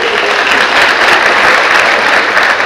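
Loud, steady applause from an audience at a high school band spring concert, a dense continuous wash of many hands clapping with no talk over it.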